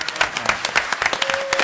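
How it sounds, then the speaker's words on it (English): An audience claps in a short round of applause, individual hand claps audible in a fairly close, uneven patter that continues throughout. "Big round of applause."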